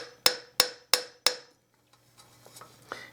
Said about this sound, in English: put this on the roller and get it right underneath the dent and then tap it with the rawhide mallet